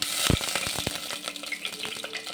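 Sliced eggplant sautés in a hot pan, a bright sizzle punctuated by a few quick scraping stirs and clanks of a spoon in the first second, close and without talking.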